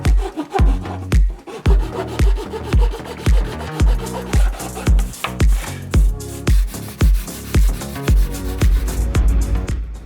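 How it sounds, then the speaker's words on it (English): Steady back-and-forth sanding on a scratch-built R5-D4 droid dome, loud and close, with rhythmic rasping strokes repeating about twice per second throughout. "Sand that all off."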